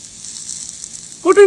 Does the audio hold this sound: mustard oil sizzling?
yes